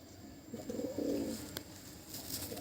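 Old-line yellow-eyed high-flying tumbler pigeons in a loft cooing softly, a few low murmuring coos close by over steady background hiss.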